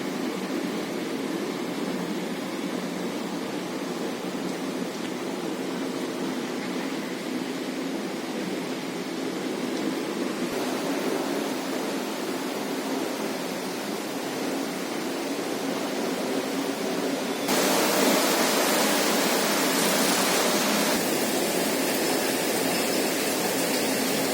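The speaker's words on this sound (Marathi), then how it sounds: "साडे 11च्या सुमारास खूप जोरात मुसळधार पाऊस पडला" Heavy monsoon downpour outside a window makes a dense, steady roar of rain that swells louder toward the end, with no voices.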